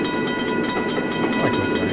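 Mechanical bells ring at a pedestal gate and wigwag while a train rumbles through a railroad crossing in the Trainz video game, a steady loud mix of rolling rail noise and rapid repeating dings.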